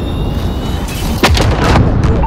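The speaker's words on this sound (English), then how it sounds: "Allied precision airstrike incoming." Heavy booming blasts from a precision airstrike in a first-person shooter game, loud rumbling detonations stacking over a dense roar of gunfire and battle noise.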